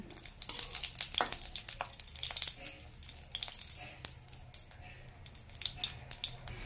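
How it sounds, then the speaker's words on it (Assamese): Two dried red chilies fry in hot oil with a steady, dense crackle and sizzle, punctuated by brighter pops and light stirring scrapes, close up, with no talking. "এয়া ভালদৰে ভাজি লওঁ।"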